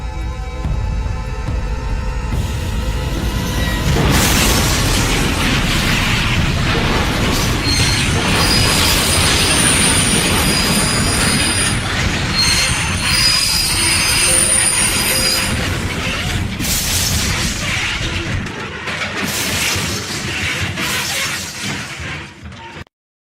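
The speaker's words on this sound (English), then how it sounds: "The manifest train crashes into the idling grain train" A manifest train slams into an idling grain train: a loud, continuous roar of rolling rail cars with squealing wheels, grinding metal and clattering, lasting many seconds before tapering off abruptly.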